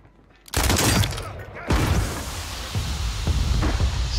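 Pistol shots crack in a video game, with a sudden loud burst of gunfire, then several sharp single shots spaced out, plus some background talk.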